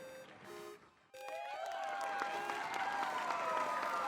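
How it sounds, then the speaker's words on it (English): A couple of short electronic tones, then a sudden burst of synthetic clapping and crowd cheering from a video game, replayed and continuing steadily, loud and game-like. "It, like, replayed the clap sound."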